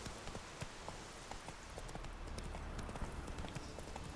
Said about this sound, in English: Yeah, I guess we can ride the horse there.